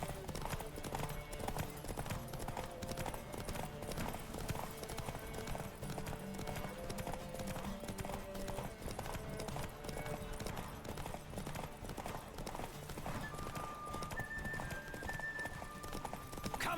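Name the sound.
horse galloping in a video game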